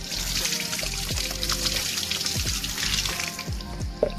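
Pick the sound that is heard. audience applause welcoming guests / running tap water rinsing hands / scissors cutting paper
running tap water rinsing hands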